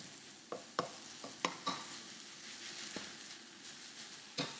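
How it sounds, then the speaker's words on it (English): Pad thai ingredients sizzle quietly in a pan while a utensil stirs them, giving a series of sharp scraping clicks and knocks over a faint steady frying hiss, close by and with no one talking. "let's mix all that together. Just get that cooking down."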